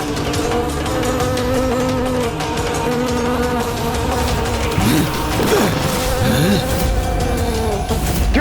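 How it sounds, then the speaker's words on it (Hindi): A dense, loud buzzing swarm of countless insects used as a sound effect in a Hindi mythological TV series, droning continuously for the whole stretch with a few sharp swells midway. "ये भिनभिनाहट जैसे असंख्य कीट एक साथ ध्वनि उत्पन्न कर रहे हैं"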